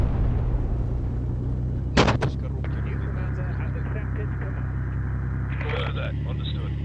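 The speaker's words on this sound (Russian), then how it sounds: "Выстрел!" A single sharp gunshot in Project Reality cracks out over a steady low tank engine rumble, followed by faint clatter; voices talk nearby.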